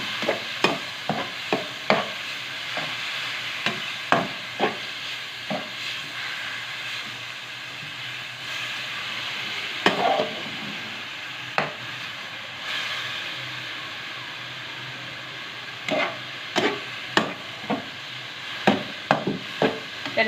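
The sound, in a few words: frying boneless chicken in a pan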